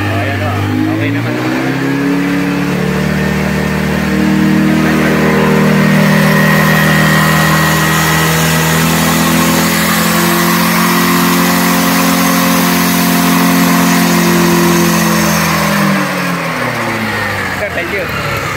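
A Motorstar Easyride 150N maxi-scooter engine revved while stationary, rising from idle to a sustained high-rpm drone and dropping back near the end; loud and close, with a person speaking over it.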